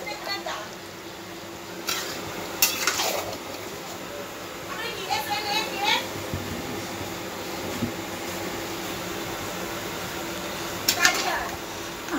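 Sweet mango pickle with dried red chili powder cooks in a pan, a low steady sizzle with occasional scrapes and clinks of stirring, under a voice talking throughout.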